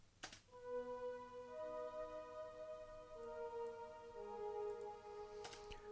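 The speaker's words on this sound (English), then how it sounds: "I've used a Nexus pad in Epic Pads, Ganymede, and it sounds like this." A soft, sustained Nexus Epic Pads Ganymede synth pad plays quiet held tones that shift pitch slowly, with a couple of faint clicks at the start and end.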